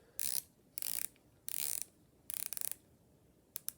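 Rotating bezel of a 46mm Glycine Combat Sub watch with 120 clicks, bursts of fine rapid ratcheting clicks in several short turns, very close and quiet with pauses between.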